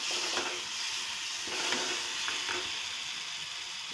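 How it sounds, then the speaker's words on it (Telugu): Tamarind water poured into hot oil and frying fish curry in a pan, a loud steady sizzle and hiss with faint stirring clinks, no talk. "బాగా ఫ్రై అయింది ఇందులోకి చింతపండు పులుసు యాడ్ చేస్తున్నాను"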